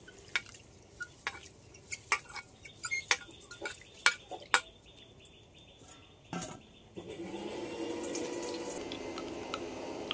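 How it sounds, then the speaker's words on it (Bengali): Gobindobhog rice is swished and rinsed in a bowl of water, with irregular close clinks and sloshes, then running water pours steadily for the last few seconds. "আমি এখানে 100 গ্রাম গোবিন্দভোগ চাল নিয়েছি, আর এই চালটা আমি ধুয়ে নেবো।"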